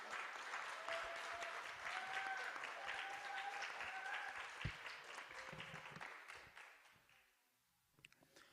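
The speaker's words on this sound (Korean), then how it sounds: "큰 박수로 맞이해 주시기 바랍니다." Audience applause in a hall at a rehabilitation and independent-living faculty's academic festival, welcoming the student council president: steady, dense clapping throughout, with faint musical tones underneath, tapering to near silence at the end.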